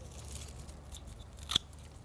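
Garden shears cut back plants in a quiet outdoor setting, giving one crisp, faint snip amid soft background rustle.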